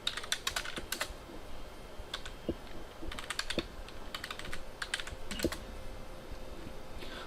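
Someone types on a computer keyboard, with crisp keystrokes landing in quick irregular bursts separated by short pauses, close and clear against a quiet room with no talking.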